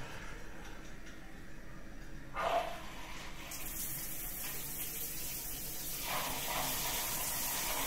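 Water from a newly installed shower runs steadily in a tiled shower enclosure during a test after fitting the wall panel and mixer taps, a continuous broadband hiss that grows slightly fuller partway through, with no voices.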